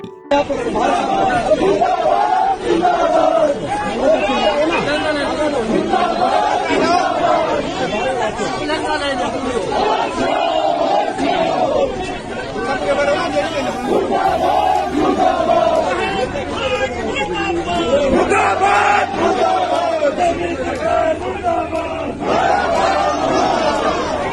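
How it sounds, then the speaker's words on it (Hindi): Protest march crowd against the administration over the Joshimath crisis, many voices shouting and chanting slogans together in a dense, continuous, loud roar of chatter and cries throughout. "आइए देखते हैं लोगों ने किस तरह से मार्च निकाल के प्रशासन को पूरी तरह जगाने की कोशिश की।"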